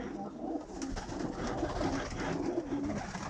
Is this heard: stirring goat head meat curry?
no